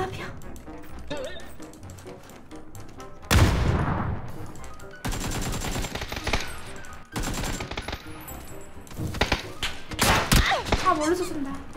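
Gunfire in a video game sounds in bursts of sharp cracks and rapid automatic fire, some dull and distant, others louder and closer, with a gamer talking in between.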